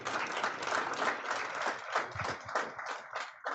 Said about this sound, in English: round of applause for Dr. Mohammed Lachemi.